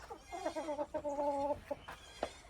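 Chickens and a rooster on a farmstead, with repeated harmonic clucks and calls close by, a steady run of vocalizing in the middle and a couple of sharper squawks near the end, no talk.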